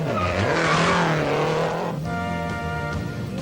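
A Renault 11 Turbo rally car races at the 24 Hours of Ypres, its loud engine howling and rising in pitch as it speeds past close by, followed by a strained, tonal revving as it pulls away.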